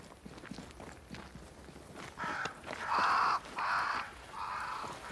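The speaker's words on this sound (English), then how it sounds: "crows. They flock to that great tree up there." Crows caw in the game Banishers: Ghosts of New Eden, several loud calls near the middle and end of the clip over a quieter bed of ambient game sound, with no talking.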